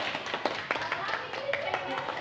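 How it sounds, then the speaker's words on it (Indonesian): A small counseling group in a classroom session clapping hands together, a close cluster of brisk, uneven claps at moderate volume with voices murmuring underneath. "tepuk tangan dulu untuk kita semua ya"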